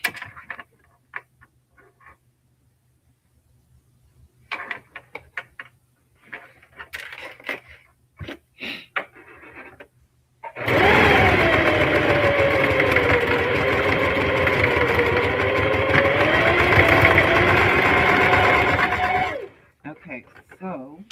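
A Singer Heavy Duty sewing machine stitches a crossbody bag in one loud, steady run lasting about nine seconds, its motor whirring close up, after a stretch of quiet handling noises and light clicks.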